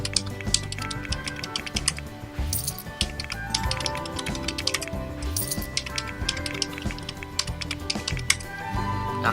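A cheat code for The Sims 4 is typed on a computer keyboard in a steady stream of close, clattering key presses, with a few louder taps.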